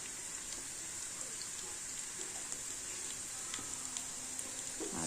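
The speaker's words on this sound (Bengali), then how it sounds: "এদিকে বসিয়ে দিয়েছি দেখো আলু ভাজা করছি" Potatoes fry in a pan with a soft, steady crackling sizzle, low and continuous throughout, with no talk over it.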